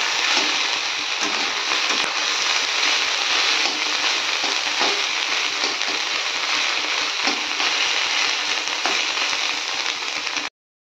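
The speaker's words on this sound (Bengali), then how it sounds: "এখন মাশরুমটা দিয়ে দিয়েছি, আর মাশরুমটা খুব ভালোভাবে ভেজে নিচ্ছি" Mushrooms fry steadily in a hot pan, a dense, close-up sizzle with scattered crackles and pops running without break until it stops abruptly.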